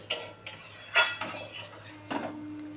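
A lid set over a cooking pot of water for a fish curry, a few close metallic clanks and clinks spaced over a couple of seconds, with a faint hum beneath.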